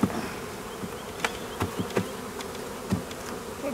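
Swarming honey bees hum around a beekeeper working a hive, a soft continuous buzz punctuated by several brief close fly-bys and small knocks.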